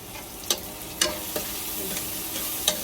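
Spices for a tempering sizzle in hot oil over a lowered gas flame, with a steady frying hiss punctuated by several sharp clicks of stirring.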